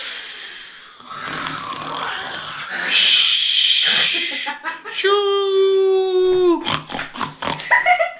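A person imitates snoring with their voice, making rasping, throaty inhales and snorts in a few close bursts, ending in a drawn-out nasal whine and choppy breathy sounds.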